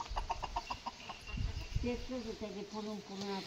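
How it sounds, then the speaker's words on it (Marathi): Hens cluck softly nearby, low murmuring calls following a few quick taps and knocks; the whole scene is quiet. "फक्त बघ कशा खातात बघ कोंबडी"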